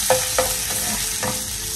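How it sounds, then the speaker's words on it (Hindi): Steady sizzle of an Indian tadka, spices frying in hot oil, with a few sharp clinks of a spoon stirring the pan up close. "तड़का लग चुका है।"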